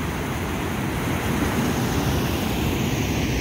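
Water spills over a dam into the bed of the Salgado River near Aurora in the Cariri region, a steady, dense rushing roar that holds unbroken and loud throughout with no voices.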